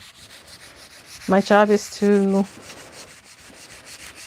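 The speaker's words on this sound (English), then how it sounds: "I'm just sanding it in sections really right now" Hand sanding a small brass metal piece, a soft, steady rubbing scrape running close throughout, with a brief spoken phrase over it midway.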